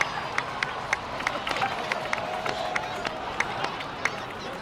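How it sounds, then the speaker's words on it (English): Steady applause from a large crowd in the video game Genshin Impact, a dense wash of clapping with sharp individual claps popping out, continuing evenly throughout. "please give another round of applause for them"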